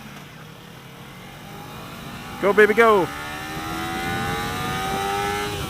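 A 2015 Kawasaki Ninja 300 motorcycle revs in a short loud burst while riding, rising and falling over about half a second, then settles into a steady engine drone with wind noise and someone talking over it.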